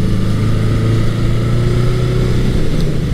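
A 1980s Honda CB900C motorcycle with an aftermarket exhaust runs with a throaty, steady exhaust drone, loud and close, holding an even idle-to-cruise rumble for a few seconds.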